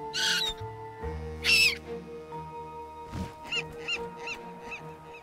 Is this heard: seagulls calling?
yes